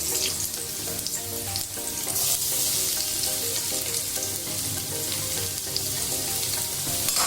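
Onions sauté in a pan with oil, giving a loud, steady, dense sizzle and crackle that fills the whole stretch, with occasional faint stirring scrapes and no talk.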